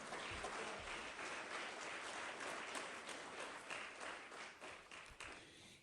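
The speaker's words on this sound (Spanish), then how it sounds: "Dele un fuerte aplauso a Cristo, hermano, en esta hora." Church congregation clapping during a Spanish-language sermon, a dense, steady wash of many hands that thins slightly toward the end, heard at moderate distance and fairly quiet overall.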